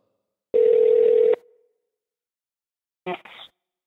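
Telephone tone sounds as a call is placed, one steady beep lasting nearly a second, then quiet, then a short burst of dialing or ringing tones, clean and close with no talk.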